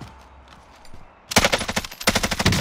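Rapid automatic gunfire in Call of Duty: Modern Warfare, arriving as a quiet distant stretch and then two loud, close, rattling bursts of shots at a steady fast rhythm.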